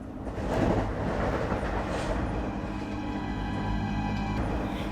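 A moving train in a Bengali cartoon ghost story rumbles steadily with a rhythmic rolling clatter, a continuous mid-level hum that swells briefly near the start and then holds even.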